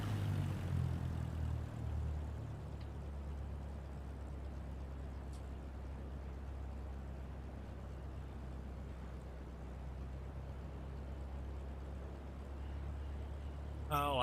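A propeller aircraft engine drones at low power in Microsoft Flight Simulator 2024, a quiet, steady low rumble that holds for the whole stretch with no talking over it.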